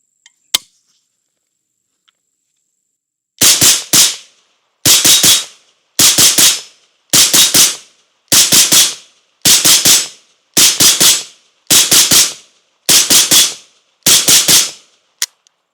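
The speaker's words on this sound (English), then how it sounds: "It's not going to be a continuous dump, just like a quick shooting, pause, quick shooting, pause." Century Arms 5.56 AK rifle fired outdoors in quick bursts, about ten short sharp volleys of several rounds each separated by brief pauses, loud and close.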